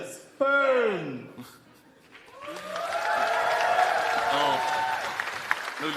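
An audience at a YogCon 2019 stage show breaks into applause after a performer's expressive vocal line, the clapping swelling in from a quiet gap and holding steady while voices call out over it.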